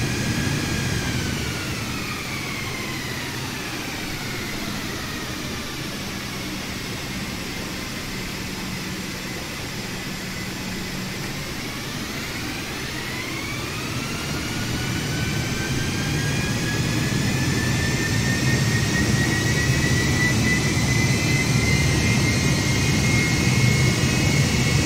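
Airbus A320neo jet engines spool up to TOGA thrust in a flight simulator, a steady loud roar with a rising whine that dips briefly, then swells louder and holds near and continuous.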